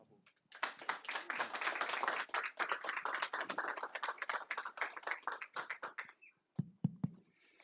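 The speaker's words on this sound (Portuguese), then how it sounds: "eu gostaria que houvesse uma salva de palmas para o cientista Dr. Babu" A small audience gives a round of applause for the scientist Dr. Babu at a launch event, quiet, distinct individual claps building quickly and then thinning to a few scattered last claps.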